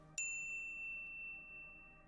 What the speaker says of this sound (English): be sure to subscribe to our channel and ring the bell to get notified about our latest videos